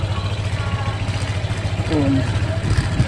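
A Honda Click V3 scooter engine with a dirty air filter runs near the microphone, a low steady putter with slight clatter, while a person talks over it.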